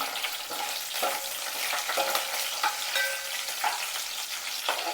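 Green chillies sizzling steadily in hot oil in a pan while making a brinjal curry, a continuous bright crackle with occasional soft stirring scrapes, close and alone.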